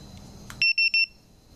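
A 2015 Jeep Wrangler alarm, set off when the shock sensor detects a light hit, gives three short, loud electronic chirps in quick succession, each a clean two-tone beep, after a faint knock in a quiet setting.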